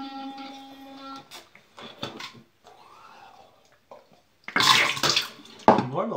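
Shower water runs and splashes in short uneven spurts, broken by gaps and a faint tonal hum, then finishes with a louder, close spray near the end.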